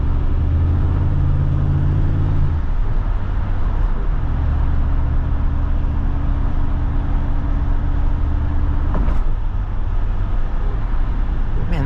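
A 1982 Toyota Supra with a swapped 1UZ V8 engine drives along, a steady close engine drone with low road rumble inside the cabin, revs shifting early on and a brief clunk near the end.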